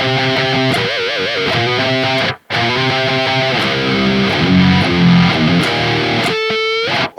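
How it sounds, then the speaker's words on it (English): A loud, heavily distorted electric guitar plays a chromatic metal riff, cutting out briefly midway before the chugging notes resume. "This riff is very simple. There's a little chromatic element happening,"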